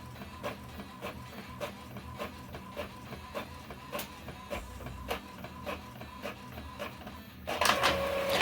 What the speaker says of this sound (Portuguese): agora tá descendo as folhas que já foram impressas para imprimir o lado branco da folha